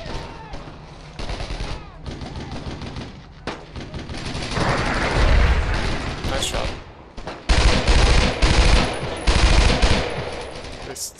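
Machine-gun fire in the World War II shooter Brothers in Arms: Road to Hill 30, loud sustained bursts and rattling volleys that swell and pause, with heavy booms mixed in among the gunfire.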